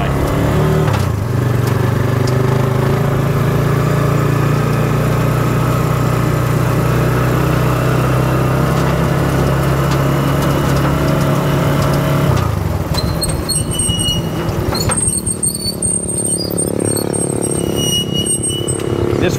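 A motorized tricycle rides along the Marcos Highway in the Philippines, its medium engine droning loud and close with a steady whine over road and wind noise. Partway through, the pitch drops as it slows, and faint speech turns up now and then.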